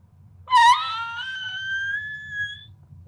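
A voice imitates a high-pitched screech from something overhead: one close, fairly loud, drawn-out wavering cry of about two seconds that rises sharply and then slowly fades, over a quiet low hum.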